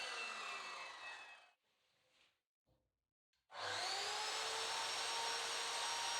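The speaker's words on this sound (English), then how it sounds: "I basically just went to town with my plunge saw and cutting rail" A plunge saw running along a cutting rail slices through a wood sheet for shelving, giving a loud, close, steady whine that stops, leaves a short quiet gap with faint handling noise, then starts again at full volume.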